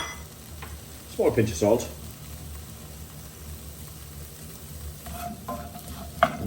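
Onions and peppers cooking in coconut oil in a pan, a low continuous sizzle with a couple of sharp stirring scrapes early on, heard close under brief speech.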